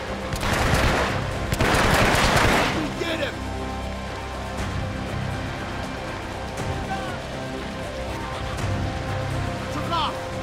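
Bursts of rapid gunfire in the video game Hitman: Absolution crackle loudly for the first few seconds, then scattered shots and game noise continue more quietly in the background.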